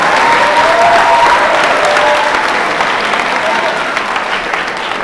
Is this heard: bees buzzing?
no